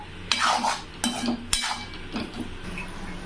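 Raw banana fry is stirred in a pan with a spoon, giving a few quick scraping strokes and clinks against the metal over a faint sizzle.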